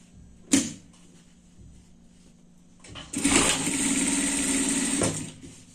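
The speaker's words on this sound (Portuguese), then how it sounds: "a gente vai passar uma costura aqui no cinto" Sewing machine stitching a seam on a fabric dress belt, a sharp mechanical clack followed by a quiet pause, then a loud steady whirring run of about two seconds that stops abruptly.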